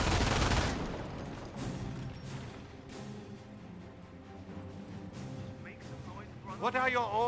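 Bursts of MG42 machine gun fire in the WWII strategy game Company of Heroes, a loud volley at the start followed by scattered distant shots and battle noise beneath ongoing talk.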